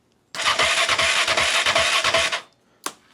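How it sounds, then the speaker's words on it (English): A 2015 Honda CRF450X dirt bike cranking on its electric starter, a loud close rhythmic whirring for about two seconds that stops, followed by a brief second burst. "make sure that this engine's going to crank"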